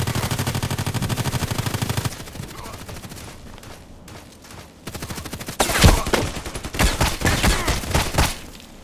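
Gunfire in the online shooter Contract Wars comes as loud, rapid automatic bursts and heavy single reports. A quieter stretch sits between the volleys before they return at close range and full loudness.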